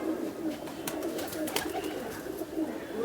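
Pigeons at a rooftop loft coo softly and repeatedly, close by, over a steady background hum.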